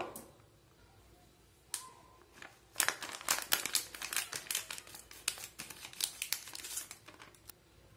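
A plastic packet of Hapima crispy pakoda fry mix is snipped, and after a short tearing sound there is a burst of loud, close crinkling and rustling as the packaging is handled, with no talking.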